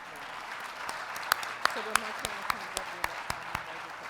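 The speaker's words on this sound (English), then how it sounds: "I think I like that applause." At a Women of Color technologist gala, the audience claps in sharp, fairly sparse bursts while a speaker's voice carries on underneath.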